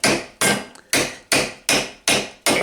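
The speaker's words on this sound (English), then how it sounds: "I'll go through with hammering anyway." Seven sharp hammer blows land in a steady, even rhythm, each a loud close strike that quickly decays before the next.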